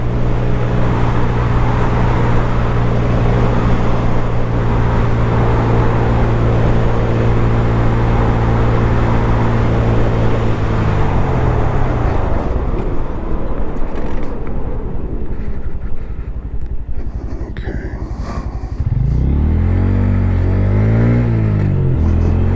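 A 2022-or-later Honda Grom motorcycle is ridden in 4th gear: a loud, close engine drone holds steady, then eases off and fades under wind noise, before revving up again near the end.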